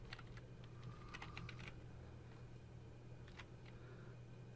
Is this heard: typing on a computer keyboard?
yes